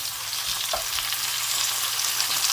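Peeled tomatoes hit a pan of lightly golden onions for butter chicken, setting off a dense, steady sizzle and hiss with a couple of soft stirring knocks early on.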